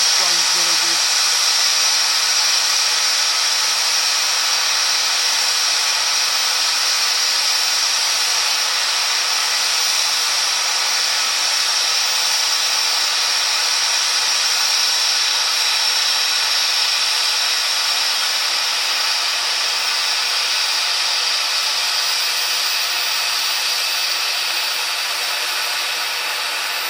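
A steam engine running around a run-round loop, heard as a steady, loud hissing rush of steam that holds evenly throughout with no clear beats or whistles.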